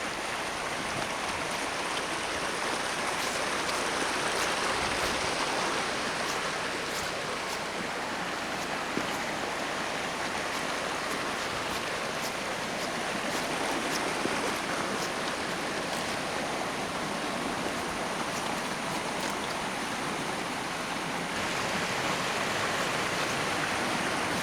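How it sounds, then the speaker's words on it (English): Sandcut River flowing near Sandcut Waterfall makes a broad, constant rushing hiss, steady and unbroken throughout, close by and fairly loud. "Water flowing over here."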